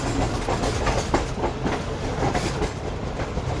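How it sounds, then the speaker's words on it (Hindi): The Karakoram Express rolls along in winter after leaving Hyderabad, Pakistan, heard from inside an economy-class carriage as a loud, steady rumble with rhythmic clickety-clack from the wheels on the rails. "6:15 पर ट्रेन ने डिपार्ट किया है हैदराबाद से।"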